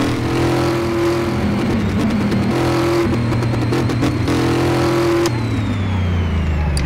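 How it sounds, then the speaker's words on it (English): A supercharged V8 DOHC car engine in Car Mechanic Simulator 2018 drones loudly and steadily, its pitch rising and falling as the throttle shifts through revs, with no pauses. "The supercharged V8 DOHC is a more powerful engine than the OHV one."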